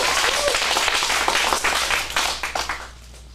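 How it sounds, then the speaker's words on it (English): Applause from the audience at an adults' acting script showcase in a studio, a dense wash of many hands clapping steadily, then thinning and fading toward the end. "Get a round of applause"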